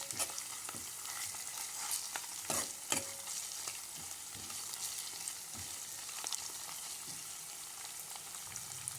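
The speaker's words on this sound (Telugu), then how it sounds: "పోపులో అల్లం వెల్లుల్లి పేస్ట్ వేయించుకొని ఇది వేగనివ్వాలి" Ginger garlic paste frying in hot tempering oil for a bottle gourd curry, a quiet steady sizzle broken by intermittent scrapes and knocks of a spoon stirring the pan, close and faint.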